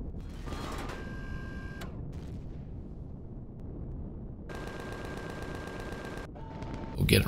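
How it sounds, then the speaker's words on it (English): Rooftop gun turret in the Empyrion video game firing at bombers, loud sustained bursts of rapid mechanical shots with a steady tone, pausing briefly before another long burst. "Go get him, rooftop gun."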